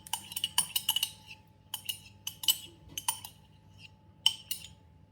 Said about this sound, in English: Give that a good mix. Get those last few lumps.